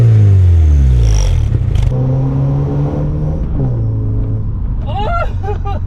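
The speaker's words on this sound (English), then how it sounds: "In other words though, the exhaust sounds really good." A budget car fitted with cheap performance mods accelerates hard, its loud raspy exhaust note sweeping up through the revs before settling into a steady drone, with a brief voice near the end.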